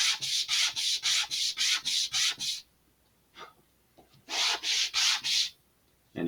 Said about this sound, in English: This is the part that we absolutely need to sand, because this is the root.